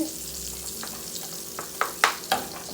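Garlic cloves fry in melted butter in a pan, a soft steady sizzle broken near the end by a few sharp spatula taps and clicks, close and fairly quiet with no talking.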